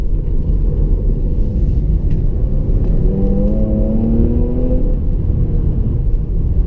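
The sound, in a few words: Jaguar XE S supercharged V6 engine rasp heard from inside cabin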